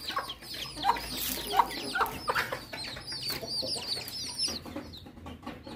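Chickens cluck and squawk close by while a rooster calls among them at a bird market in Haripur, busy and continuous sounds over a low background hum.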